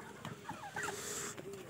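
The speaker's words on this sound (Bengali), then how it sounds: "এটা আমার টার্কি রয়েছে, এই দেখুন কীভাবে খাচ্ছে ওরা।" Turkeys and chickens clucking softly while they eat grain in a backyard poultry pen, scattered low calls rising and falling at a faint level with no voices.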